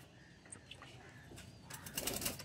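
Giribaz and Madrasi pigeons taking off and flying in a flock at a loft, with soft flapping and faint cooing over a quiet outdoor background, the wingbeats growing louder and busier toward the end.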